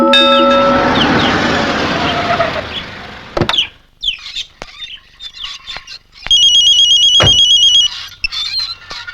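A telephone rings in short repeated electronic bursts after a stretch of chatter and clatter, loud and close, with pauses between rings and scattered knocks and rustles around it.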